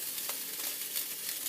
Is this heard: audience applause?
no